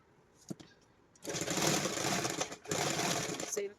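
A sewing machine stitches pant fabric in two steady motor runs with a short pause between them. A few faint clicks come before the stitching starts.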